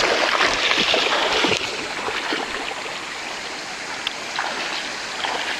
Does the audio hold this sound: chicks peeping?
no